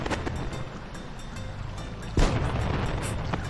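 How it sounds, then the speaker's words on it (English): Fireworks during the Sunbreeze Festival in the video game Final Fantasy XI, a steady rumbling wash over a crackling ambience, broken by one sharp, loud boom partway through and followed by continuing low thuds. "That is a phenomenal view of the fireworks."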